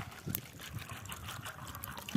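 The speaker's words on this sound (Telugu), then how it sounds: "తగినన్ని నీళ్ళు అయితే పోసుకుందాం" Water trickles and pours steadily into a cooking pot of palm seeds for boiling, a soft continuous liquid splash heard alone at low level.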